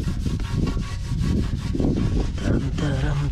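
A brush scrubs a car wheel rim during washing outdoors, a loud close rhythmic rasping of quick back-and-forth strokes that continues steadily, with a faint voice or squeak near the end.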